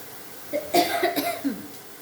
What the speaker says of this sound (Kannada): ಒಗ್ಗರಣೆ ಹಾಕಿದ ತಕ್ಷಣ ಕೆಮ್ಮು ಬಂದ್ಬಿಡುತ್ತೆ